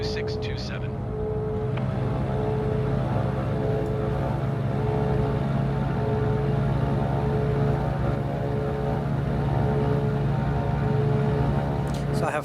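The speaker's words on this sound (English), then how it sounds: "Let's just do a rolling takeoff here." Twin engines of a Cessna 414 on a rolling takeoff in Microsoft Flight Simulator, a steady, loud, droning hum with stable tones that holds throughout without letting up.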